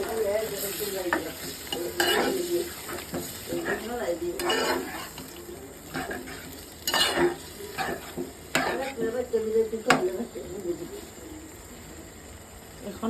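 Pigeon and potatoes are sautéed in a pan during village cooking, with a spoon stirring and scraping in uneven bursts over a low sizzle, close up. Quiet talk is faintly heard.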